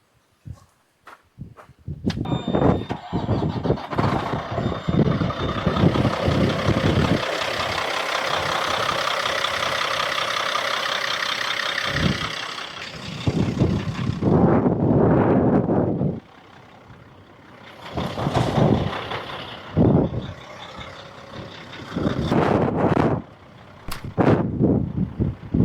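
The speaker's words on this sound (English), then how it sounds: "Still got to get this truck into town and haul some grain in" A grain truck engine turns over and settles into a steady running rumble at close range, broken later by louder bursts and gaps, with footsteps and handling noises nearby.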